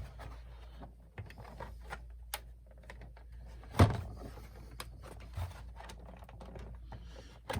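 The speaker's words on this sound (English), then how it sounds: "You want to flip your PS4 over, and now you want to take the case off." The plastic case is pried and slid off an upturned PS4 console, soft clicks and scrapes up close, with one sharp knock midway and a few quieter taps after.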